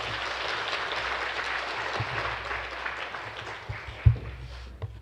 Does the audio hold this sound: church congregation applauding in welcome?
yes